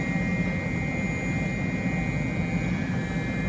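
A CNC machine mills a light gauge cut on a 799 cylinder head, giving a steady, loud whirring roar with a constant high whine and no breaks.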